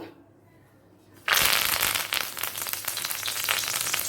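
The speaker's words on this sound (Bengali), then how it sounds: "ছ সাতটা কারি পাতির স্টিক দিয়ে দিলাম" Curry leaf sprigs drop into hot oil after a second of near silence, erupting into a loud, crackling sizzle that keeps spitting and popping close by, with no voices.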